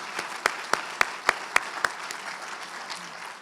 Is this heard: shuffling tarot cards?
no